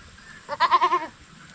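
A single young male goat bleats in a quick wavering burst of four or five pulses, close and clear against a quiet background.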